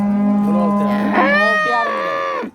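Cow with her calf at the Ilich livestock bazaar in Bandihon, Surxondaryo: one loud, close, drawn-out moo of about two and a half seconds that wavers in pitch and cuts off sharply.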